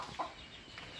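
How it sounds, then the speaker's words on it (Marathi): Hens shut in a coop at a Konkan village give a single short cluck, faint and close, over quiet background noise. "इकडे कोंबड्या कोंडून ठेवलेत"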